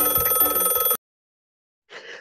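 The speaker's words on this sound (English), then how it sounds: "The phone rings and everyone stares until Duck picks it up" A telephone bell rings in a loud, bright trill that stops abruptly, followed by silence and then a second ring starting, heard alone without talk.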